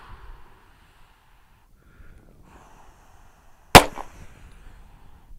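One sharp, loud pistol shot cracks out at a T-Rex Arms Flinch target after a stretch of near silence, followed by a short tail and soft background rustling.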